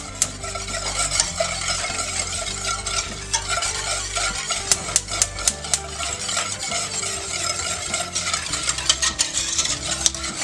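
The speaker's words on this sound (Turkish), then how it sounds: "İyice karıştırmaya devam edin ki altı yanmasın, dibi tutmasın." A spoon scrapes and stirs a custardy magnolia pudding mixture of milk and egg in a pot on a lit stove, a steady close rhythm of scraping strokes with occasional sharp clinks against the metal.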